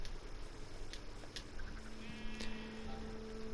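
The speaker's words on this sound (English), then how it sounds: "these animals over here, man, these cows and these sheep" Sheep bleating among cows on a farm, several short wavering bleats near and far over steady outdoor background noise, no talking.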